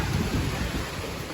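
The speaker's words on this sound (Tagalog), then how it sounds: "Lakas, lakas yung hangin niya." Strong wind roaring steadily close by, a dense low rumbling rush with gusty swells and no voices.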